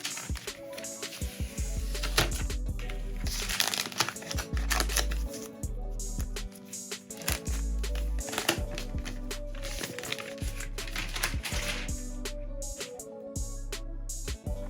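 Protective plastic film peeled off a new 2021 11-inch iPad Pro, heard as close, continuous crinkling and rustling with scattered sharper crackles and handling noises, no talking.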